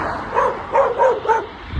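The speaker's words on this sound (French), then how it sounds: "Tu peux pas marcher tranquille au bord de la route sans te faire aboyer par des chiens." Dogs by a roadside barking in a quick series of three or four yips and barks, moderately near, over a low background rumble.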